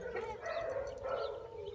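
A young male beagle, about seven months old, gives continuous whining, yelping howls up close, a steady plaintive cry with no talk over it.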